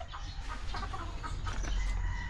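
Breeder chickens cluck in a backyard, several close birds giving short overlapping clucks and cackles over a low outdoor background.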